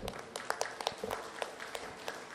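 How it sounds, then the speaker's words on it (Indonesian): Scattered hand claps from a small crowd at a government open house, sparse and fairly quiet, with irregular individual claps rather than a full roar. "Tepuk tangan Bapak Dr. Widodo."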